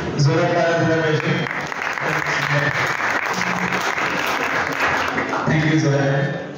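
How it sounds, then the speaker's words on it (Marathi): An audience at a science society event marking Albert Einstein's birthday applauds loudly and steadily, with a speaker's voice heard at the start and end. "जोरात टाळ्या दिल्या पाहिजे."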